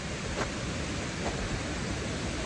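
Steady, full rushing of a waterfall in a wooded spot with patches of snow under the trees. The sound is close and even throughout, with no voices.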